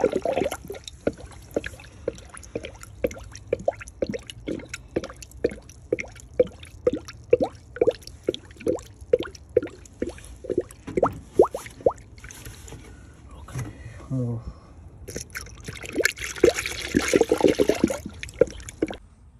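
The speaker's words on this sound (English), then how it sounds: "So I finished pouring the coolant liquid into the system." Coolant is poured into the cooling system of a Honda CR-V, producing a long run of irregular glugging splashes and sloshing pulses that come close together and then turn into a continuous trickling gush near the end.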